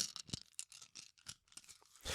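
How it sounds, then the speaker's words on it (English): Small hard plastic pieces clack and rattle together in a hand, a quick series of light, close clicks. "That is the sound of ducks in Angie's hand"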